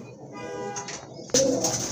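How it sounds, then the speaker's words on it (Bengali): Soft cooing of Rajgolla racer pigeons murmurs in the background, then a louder burst of nearby cooing and fluttering noise starts partway through. "আর এখানে কিন্তু আরেক জোড়া রাজগোল্লা কবুতর আছে মাশাআল্লাহ"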